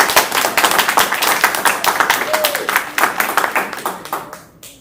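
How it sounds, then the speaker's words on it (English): An audience applauds in welcome as an artist is introduced at a gallery talk, a dense burst of many hands clapping that holds steady, then thins and fades out over about five seconds. "give me a big round of applause"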